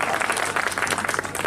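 An audience at a poetry recitation applauding, a dense, steady wash of many hands clapping, loud and continuous for a brief moment.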